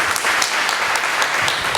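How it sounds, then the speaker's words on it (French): An audience at an anniversary event applauds, dense and steady clapping filling the short stretch without pause. "On applaudit, on applaudit"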